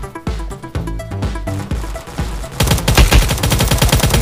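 Loud, rapid gunfire in a Vietnam War video game, bursts of shots that build into sustained automatic fire, with no talking over it.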